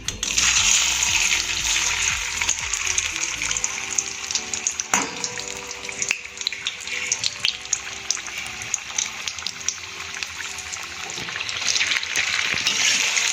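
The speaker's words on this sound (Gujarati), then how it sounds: "હવે એમાં આપણે સુરણના પીસ એડ કરી અને ફ્રાય કરી દઈશું." Pieces of suran yam fry in hot oil, a dense, bright, crackling sizzle with popping bursts that stays loud and steady throughout, close up and alone.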